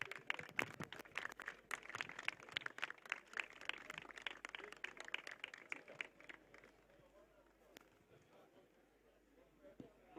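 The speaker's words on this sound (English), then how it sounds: "put your hands together, please, for Mubarak Gashash" Audience applause at a polo tournament prize giving in Lagos, a burst of scattered hand claps that is fairly dense at first, then thins and fades over the following seconds, recorded quietly with some background voices.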